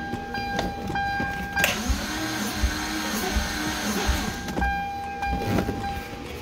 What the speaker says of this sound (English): Just crank this.